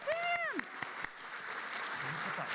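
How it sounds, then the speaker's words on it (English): Audience at a PAX East 2022 theatre panel clapping, a burst of applause with a few sharp claps and cheering that settles into a steady patter, following a voice at the start. "Okay, let's give a round of applause for Sam here."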